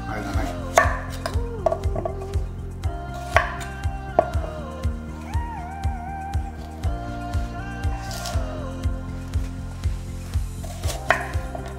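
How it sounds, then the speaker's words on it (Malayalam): Rhythmic knife chops on a cutting board as vegetables are cut for a ginger pork stir-fry, steady close strikes repeating every half second or so, with a light melodic tune playing underneath. "നമ്മൾ വെജിറ്റബിൾസ് നമ്മൾ അരിഞ്ഞെടുക്കാൻ പോവാണ്"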